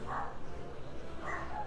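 A pet dog barks in a room, giving two muffled, moderately faint yelps over a low background hum.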